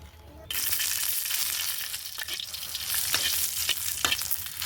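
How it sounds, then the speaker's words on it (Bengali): Chillies dropped into a little hot oil in a pan set off a sudden loud sizzle that holds steady and close, crackling and spitting without pause. "মরিচ তেলে নিতে হালকা একটু তেল দিই,"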